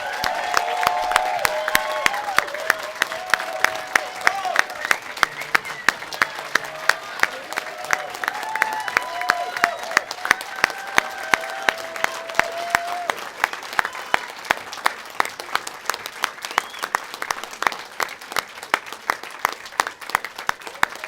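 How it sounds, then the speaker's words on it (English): A large audience claps steadily for honorees at an evening awards ceremony, a dense, sustained round of applause that stays loud throughout with a few faint voices mixed in. "So please help me in giving a round of applause to all of the honorees this evening."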